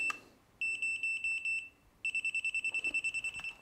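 Electronic fire-mode selector beeps from a WE01A CQB airsoft carbine: a short run of about seven evenly spaced high beeps, a pause, then a longer rapid train of beeps, clear and close with no talk.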